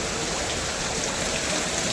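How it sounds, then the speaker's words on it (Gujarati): Heavy downpour in Gariyadhar with floodwater flowing through the streets, a dense, steady rushing hiss of rain and running water that stays close and loud the whole time, with no talking. "ગારિયાધરમાં ધોધમાર વરસાદ"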